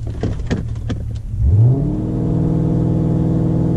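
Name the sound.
car engine revving held on launch control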